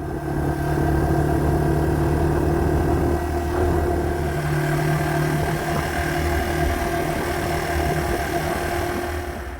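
A Yamaha TW200 motorcycle rides a gravel dirt road in Michigan's Upper Peninsula, its mid-pitched engine droning steadily and close throughout, with wind and road rumble underneath.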